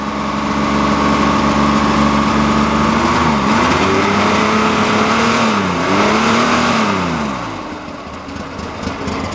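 An old, tired Chevrolet Monza engine with no fuel injection is cranked up and revved, a loud, steady close-up roar whose pitch swells and falls through several revs before easing back toward idle.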